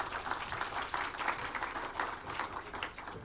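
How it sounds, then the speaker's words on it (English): An audience at an industrial-business conference panel applauds the panelists, a dense, steady wash of many hands clapping at moderate distance, alone and without speech. "could we give a round of applause for our panelists"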